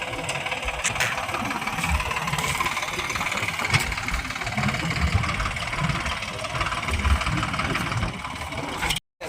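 A tractor engine idles at a cattle shelter while fodder is being unloaded, a steady low rumble with a knocking throb running throughout, moderately close, before cutting off briefly near the end.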